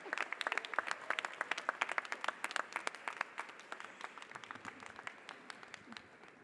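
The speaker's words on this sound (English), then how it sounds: "One more round of applause for our student commencement speaker, Claire Bell-Ross." An audience at a university commencement claps for the student speaker in a dense, steady patter of many hands. The applause is loud at first and slowly thins and fades toward the end, with no speech over it.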